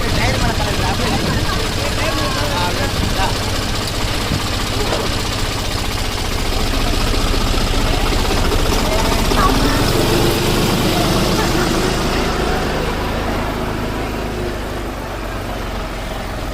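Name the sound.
tractor engine running during a ride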